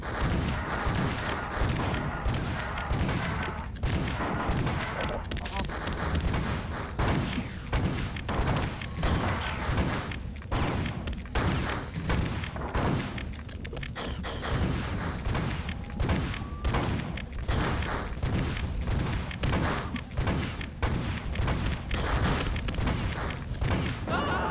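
Dense, continuous rumbling explosions and gunfire in the video game Marathon 2, with thuds and booms packed tightly over roughly twenty-five seconds and no quiet gaps.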